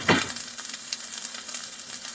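Onion and minced garlic hit a hot frying pan with a loud opening sizzle burst, then settle into a steady, close crackling fry with small pops.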